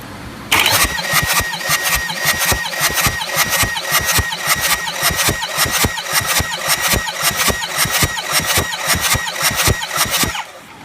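An engine cranks on the starter without firing during a compression test of cylinder five, a loud, close, rapid and even chugging rhythm that runs for about ten seconds and then stops.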